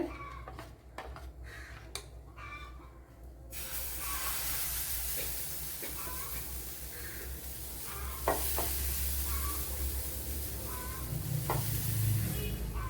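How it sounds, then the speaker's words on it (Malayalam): Snack batter sizzles in an oiled non-stick-free pan, starting with a few sharp clicks and taps, then a continuous moderate hiss with occasional spatula knocks and a low rumble; no talking. "ഇപ്പം ഞാൻ വളരെ കുറച്ച് മാവാണ് ഒഴിച്ചു കൊടുത്തിട്ടുള്ളത്"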